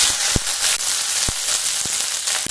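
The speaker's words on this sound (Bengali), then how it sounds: "এবার দিয়ে দেব দুটো মিডিয়াম সাইজের কেটে রাখা পেঁয়াজ" Two medium chopped onions hit hot mustard oil in a wok along with dried red chillies and black cumin, producing a constant close sizzle punctuated by a few sharp spatula clicks.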